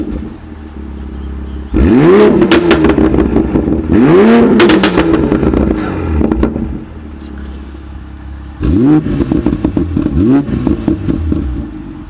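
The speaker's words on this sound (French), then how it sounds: "Ouais, ça pète un peu fort." Loud car exhaust with an MHD-flashed tune, revving in three bursts that crackle and pop on the overrun, with a quieter idle between them.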